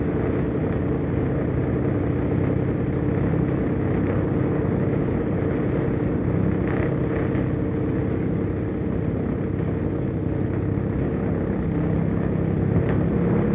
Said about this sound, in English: the X-1A is borne aloft by the mothership for its flight into the stratosphere.